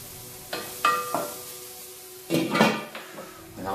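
Courgettes and red peppers dropped into a hot pan after glazing, with several clattering knocks and scrapes of pan and utensil over a light sizzle, close by.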